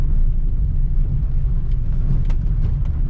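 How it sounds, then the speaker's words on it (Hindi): A car cruising steadily in third gear on a road, a continuous low engine and road rumble, loud and close throughout with no talk. "अब ये थर्ड गियर में चल रहा है, आराम से गाड़ी चला रहा है।"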